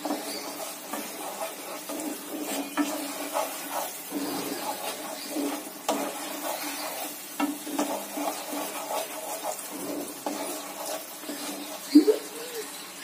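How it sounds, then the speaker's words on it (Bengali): Tilapia curry being stirred in a wok over lowered heat, a soft continuous simmer and sizzle with intermittent scraping of a spatula, fairly quiet and close. "নাড়াচাড়া করতে হবে, কারণ যাতে কড়াইতে লেগে না যায়।"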